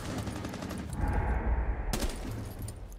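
Rainbow Six Siege gunfire rattles out as loud, close bursts of rapid automatic shots, swelling in the middle with a sharp crack near the end and no talking.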